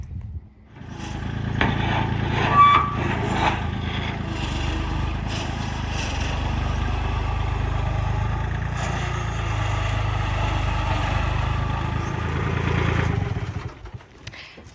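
A tractor engine runs steadily at close range, a continuous rough drone, while it moves a giant tank around a shop yard.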